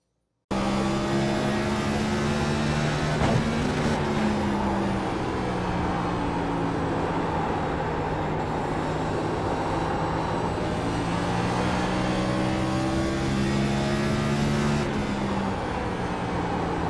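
A NASCAR-style race car roars through a lap of Richmond in iRacing, the engine droning loud and continuous with rising and falling pitch as it accelerates down the straights and lifts into the corners, with no talk over it.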